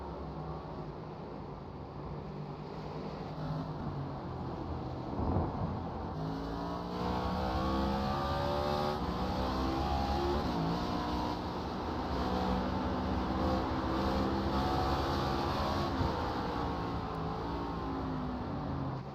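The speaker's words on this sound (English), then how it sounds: "Hear him playing with that throttle, trying to keep the car under him." A race car engine revs and drops repeatedly, the throttle blipping up and down in a steady droning whine from a racing game on the Indianapolis road course.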